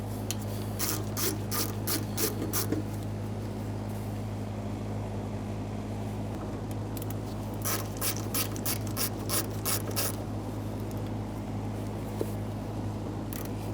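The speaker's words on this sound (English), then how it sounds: "We'll use our Phillips head screwdriver on these," A Phillips head screwdriver backs out the fuel pump mounting screws on a 1992-1996 Toyota Camry fuel tank, giving close, quiet ratcheting clicks in two rapid bursts over a constant low hum.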